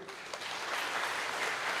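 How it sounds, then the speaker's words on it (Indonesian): Church congregation clapping during an HKBP Bandung worship service, a broad continuous patter of many hands filling a large room, steady and moderately loud throughout the short burst. "Tepuk tangan juga buat Naposo Bulung,"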